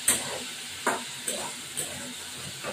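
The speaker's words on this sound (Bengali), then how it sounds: "এইবার এটাকে নাড়া দেবো।" Paneer and pointed gourd curry being stirred in a pan, with a spoon scraping in about five separate strokes over a soft, steady sizzle.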